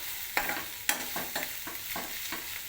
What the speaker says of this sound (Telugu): అల్లం పేస్ట్ను పేస్టును కొంచెం సేపు ఉడకనివ్వాలి